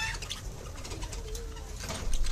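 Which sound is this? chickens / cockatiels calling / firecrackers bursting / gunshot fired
cockatiels calling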